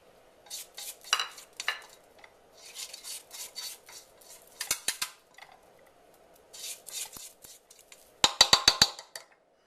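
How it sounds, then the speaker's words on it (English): A spatula scrapes down the sides of a mixing bowl of chocolate cake batter in short, close, irregular scraping strokes with quiet pauses between them, ending in a quick cluster of sharper clicks and scrapes. "I'm going to scrape down the sides of the bowl"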